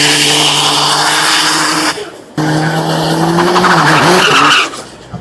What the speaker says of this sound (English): Look at the marks laid down, and look at the smoke coming off the rubber.